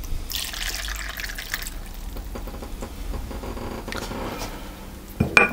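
Brandy poured into Christmas mincemeat in a mixing bowl: a soft, steady trickle of liquid running for several seconds, close and fairly quiet, ending with a small clink.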